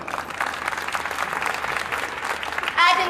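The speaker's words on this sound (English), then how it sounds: "Please keep the applause going" A crowd at a school annual day function claps steadily for a prize winner, a dense, even patter of applause with a voice rising briefly at the very end.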